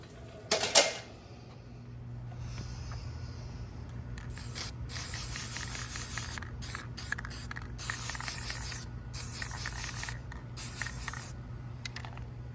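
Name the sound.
spray paint can spraying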